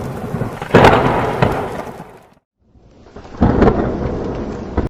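Heavy rain and rolling thunder from an animated cartoon storm, with two loud, booming thunder rumbles over a constant downpour and a short, quieter lull between them.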